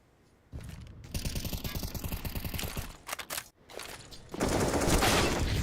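Counter-Strike automatic weapon fire sprayed through a smoke grenade on the Vertigo map: a long, rapid, evenly spaced stream of close shots, a brief pause with scattered rounds, then another loud, dense burst.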